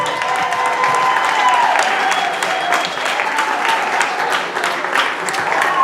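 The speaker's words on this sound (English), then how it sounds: "Let's hear it one more time for Rachel" Wedding guests applauding after a speech, a dense, steady clapping from a room full of people with some faint cheering and voices mixed in, loud and continuous throughout.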